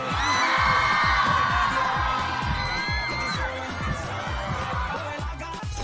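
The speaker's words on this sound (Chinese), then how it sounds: "再次用最热烈的掌声和尖叫欢迎8位车手的到来。" A live studio audience at a Chinese racing competition show cheers and screams loudly to welcome eight racers, with dense sustained crowd noise and rhythmic low thumping beats underneath, staying loud for about six seconds.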